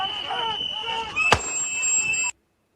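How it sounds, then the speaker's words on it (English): A single sharp gunshot cracks once, loud and close, over a continuous background of tones and movement, and everything cuts off abruptly soon after. "Right, that first gunshot."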